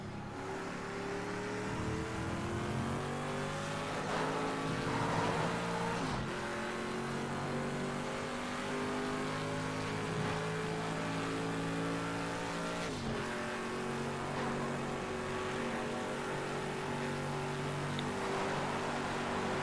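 A race car engine in a racing video game time trial lap, steadily revving up through the gears with sharp drops at each shift, loud and continuous with faint tire noise.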